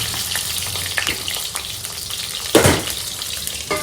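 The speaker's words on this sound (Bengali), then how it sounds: "এখানে পটলগুলো ভাজা হোক" Pointed gourd (potol) sizzles as it fries in a pan, a close, steady crackle of hot oil with occasional sharper spits and one louder burst of sizzling midway.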